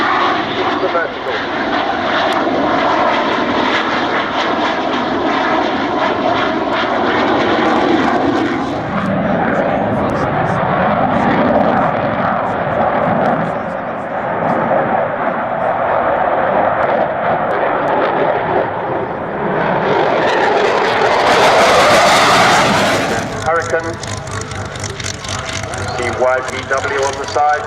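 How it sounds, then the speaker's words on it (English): Airshow aircraft powering up and accelerating into a vertical climb, a loud sustained engine roar that swells and rises in pitch near the end, with an announcer talking over it. "in a moment he's going to put the power on and accelerate"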